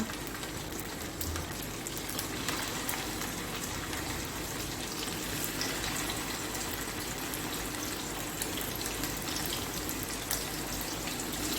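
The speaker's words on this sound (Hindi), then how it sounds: "अब ऑयल को गरम किया है और आंच कम कर दिए। अब मैं इसमें फ्राई करूँगी।" Beef kebabs frying in hot oil over low heat for kabab karahi, a dense, even sizzle and spatter running steadily throughout at close range, with no talking.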